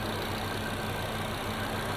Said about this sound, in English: So there is our 5-cylinder turbo engine.